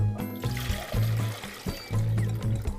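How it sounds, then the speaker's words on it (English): Water running from a tap into a measuring cup, splashing and gurgling in pulsing bursts, close and moderately loud. "I'm gonna go ahead and fill up my measuring cup with water"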